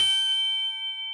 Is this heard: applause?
no